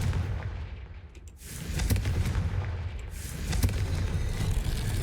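A Confringo fire spell blast in Hogwarts Legacy, heavy booming explosive rumbles with a sharp crack near the start and a second burst later, dense and loud with no talk.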